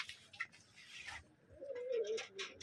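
Rajshahi Giribaz pigeons in a loft coo softly, a faint low throaty coo rising near the end amid light shuffling and small chirps, fairly quiet.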